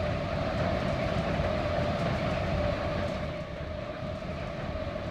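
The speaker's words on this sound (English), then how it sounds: "just in time too for that train to run through." A train rolling through in the Transport Fever 2 game, a steady loud rumbling of rail wagons with a sustained mechanical drone, continuous for the whole stretch with no talk.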